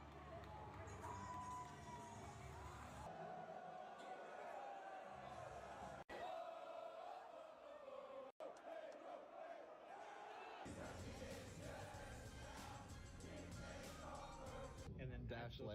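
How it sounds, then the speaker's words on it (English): A large baseball crowd roars and cheers continuously, loud and dense, with shouting voices mixed throughout and a brief dropout partway. "These baseball fans recruited more people to come cheer with their shirts off."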